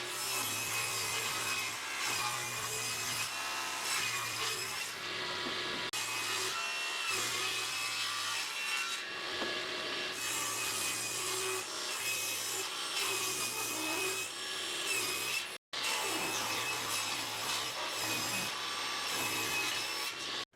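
An old 2x4 being ripped lengthwise down the middle, with a continuous loud rasping saw cut through wood in rhythmic strokes and one brief break near the end.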